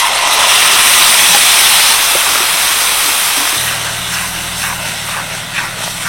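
Tomato paste sizzles in hot oil with Kashmiri chili powder while cooking Vater Manchurian, a loud steady hiss that eases slightly toward the end.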